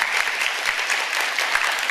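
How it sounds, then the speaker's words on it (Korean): Steady applause from a church congregation, many hands clapping evenly for about two seconds with no voices over it. "감사의 박수 한번 보내드릴까요?"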